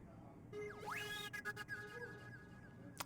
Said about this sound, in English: It's like a very synthetic, high-pitched bird